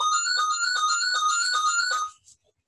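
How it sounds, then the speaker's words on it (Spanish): A phone ringtone goes off during a talk, a bright repeating electronic melody pulsing in quick notes for about two seconds before cutting off abruptly, loud and near with no speech over it. "aquí suena un teléfono que lo tendré que apagar de alguna forma"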